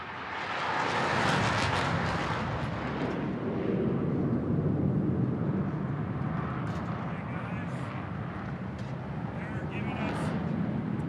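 An F-35 jet performing a minimum radius turn at an air show flyover, a loud sustained roaring rush that builds and holds for several seconds, with crowd chatter beneath it.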